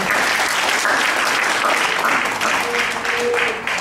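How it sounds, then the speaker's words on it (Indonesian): A church congregation gives sustained applause during a sermon, a dense, even roar of clapping from many people, with faint voices and cheers mixed underneath. "Kasih tepuk tangan yang mulia bagi Allah kita."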